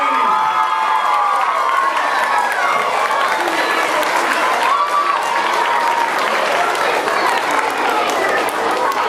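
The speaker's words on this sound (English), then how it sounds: "Everybody give your teachers a round of applause for getting you ready." School students in a gym applaud and cheer for their teachers at a pep rally, loud continuous clapping mixed with excited shouts and children's voices, a dense crowd roar that holds steady throughout.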